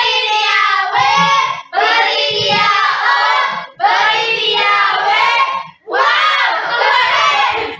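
In a classroom lesson on coding and artificial intelligence, a group of children does a 'tepuk wow' clap chant. Four loud, rhythmic bursts of voices chanting in unison come with clapping, separated by brief pauses.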